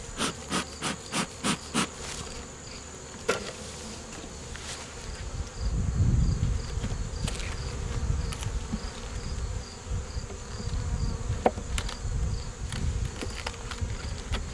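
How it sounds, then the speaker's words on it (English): Honey bees buzzing around the frames of a hive, a steady close drone that swells louder midway, with a few sharp wooden taps and knocks near the start and no talk. "add these bees to one of my lighter hives just to give them some numbers"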